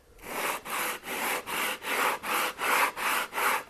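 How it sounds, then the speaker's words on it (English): Wood hand sanded with 80 to 100 grit sandpaper on a heavy-duty block, close rhythmic back-and-forth rasping strokes, about nine evenly spaced scrapes with brief gaps between them. "Then I come back with about 80 grit, 100 grit on a nice heavy duty block like this."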